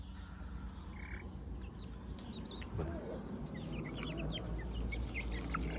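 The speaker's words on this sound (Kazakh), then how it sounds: "мынаның ішінден екеуі әтеш, екеуі тауық" Hens and roosters let out scattered soft clucks and brief calls over a low, steady background hum. The birds sound close but quiet.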